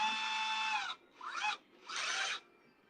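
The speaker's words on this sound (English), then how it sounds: "So I take a 3/16 drill bit and drill 2 holes" A drill with a 3/16 bit boring holes into a motor housing, running in three close bursts of high whining grind, the first long and steady, then a short one and a final medium burst, each stopping abruptly.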